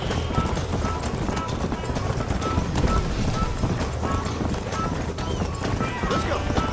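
Rapid thudding hoofbeats of a galloping horse in the video game Red Dead Redemption, dense and continuous, with a voice talking over the rushing clatter.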